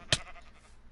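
A sheep in a video game gives a single short bleat, sharp and fairly close, followed by a quiet background.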